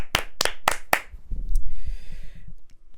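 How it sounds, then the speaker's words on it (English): A short round of clapping from a few people: four sharp, separate hand claps close to the microphone, followed by quiet rustling and low background noise. "we're giving the round of applause then"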